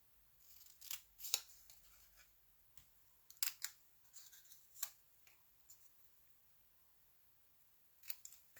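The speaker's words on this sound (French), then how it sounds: "je vais juste comme couper un morceau" Sharp scissors snip through a piece of fabric being cut for a tree trunk on a stitched Christmas stocking. The quiet, crisp cuts come in short bursts with pauses between them, close by, with no talking.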